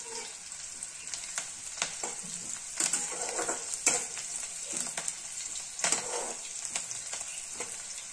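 Chopped onion with cumin frying in a pan while being browned for a ridge gourd dish, with a continuous close sizzle and repeated spatula scrapes and clinks at irregular intervals.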